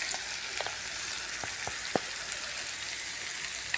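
Ingredients sauté in a pan with a steady bright sizzle and a few light stirring taps, close and continuous.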